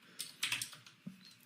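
A few soft clicks of keys being pressed on a computer keyboard, three or four light taps spread over a moment, close and quiet with no talking.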